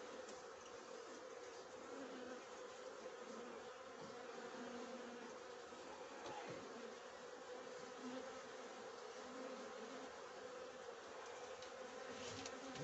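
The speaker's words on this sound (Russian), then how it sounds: "Ну, вот столько тут есть пчелы." Honey bees in a horizontal lounger hive of 48 frames with queen cells drone in a dense, steady, continuous hum, close and even throughout with no talk.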